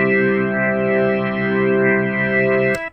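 A sustained organ chord through a Leslie speaker swirls with a pulsing, wobbling shimmer from the rotating horns, loud and steady before cutting off.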